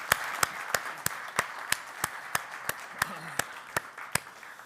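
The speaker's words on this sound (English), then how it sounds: "Give them a round of applause, will you?" During closing remarks at an event, an audience claps in a slow, even rhythm, with about a dozen sharp, distinct claps standing out over a low background hum of the room.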